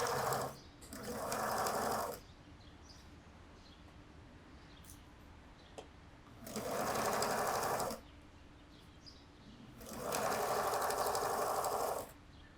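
A sewing machine stitches a double-folded hem in thick polyester crepe dress fabric, running in three steady bursts of about two seconds each, separated by quiet pauses, close and fairly loud.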